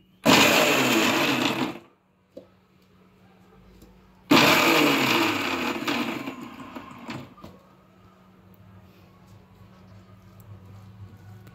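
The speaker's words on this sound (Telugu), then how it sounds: "మిక్సీ పెట్టుకుని పల్స్ బటన్ ఉంటుంది చూడండి. పల్స్ బటన్ ఒక 2-3 సార్లు ఒత్తితే సరిపోద్దండి" A kitchen mixer grinder pulses mango and coconut into chutney in two loud, whirring bursts separated by a short pause. The second burst winds down into near silence.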